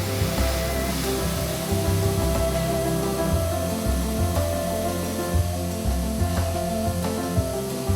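An industrial saw grinds steadily through a steel beam with a droning hum and shifting low tones, continuous and close, with faint scraping overtones.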